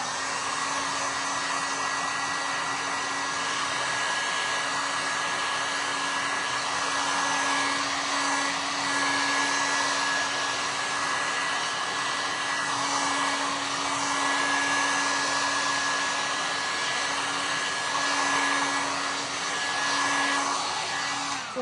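Hair dryer blowing on wet paint on a handmade craft lamb, a loud, steady whirring roar with a constant motor whine, running close and uninterrupted for the whole stretch.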